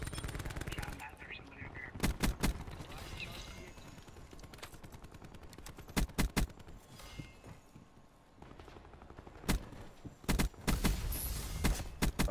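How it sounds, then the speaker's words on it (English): Gunfire in the shooter game Black Ops 4, with weapons firing through walls: sharp bursts of automatic fire and single shots at irregular intervals, some loud and close, over quieter game ambience and occasional talk. "They're shooting through walls and shit."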